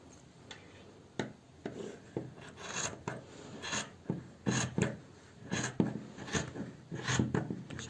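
Scissors cutting velvet fabric for a baby bonnet, a steady series of soft rasping snips and rubbing strokes close by, repeating roughly every half second with no talking.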